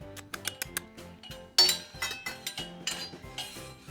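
Stainless steel kitchen tools from a utensil set, including a noodle fork, sifter, soup ladle, spatula and spoon, clink and tap sharply against each other as they are handled, in a quick irregular run of close, bright metallic knocks.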